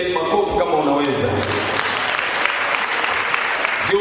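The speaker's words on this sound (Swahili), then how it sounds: "Pigia Yesu makofi kama unaweza." A church congregation claps for Jesus during a sermon, dense sustained applause filling the whole stretch at a steady loud level.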